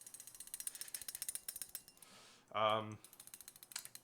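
A Serum Velocity Decode balisong knife being flipped gives off quick, rhythmic metallic taps and clicks close up, interrupted briefly by a short humming, voice-like tone before the clicking resumes.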